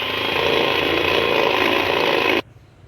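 Electric mixer beating ghee, egg and sugar for biscuit dough: a loud, steady motor whir with rattling that runs for a couple of seconds, then cuts off sharply.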